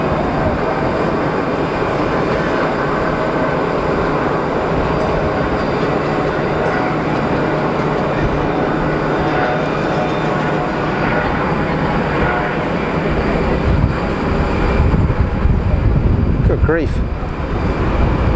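Aircraft of the Janet airline at Geneva Airport, a steady loud roar of jet engine noise filling the whole stretch with a brief rising whine near the end, and a voice speaking briefly over it.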